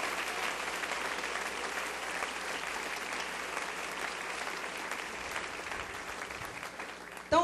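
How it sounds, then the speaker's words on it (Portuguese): A church congregation applauds in worship, a steady, even roar of many hands clapping that holds for several seconds with no talking, ending abruptly. "aplauda ao Senhor"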